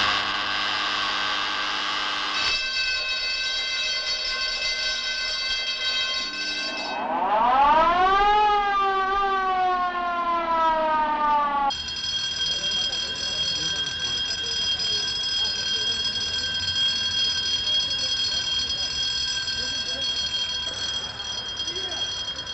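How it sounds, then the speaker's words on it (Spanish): A fire station alarm siren is switched on from its control panel, sounding loud and close. A steady tone steps up, then a rising, wailing sweep takes over, and the siren settles into a sustained howl. "en este cuadro se pone en marcha en segundos para dar la consabida alarma, tal y como voy a proceder"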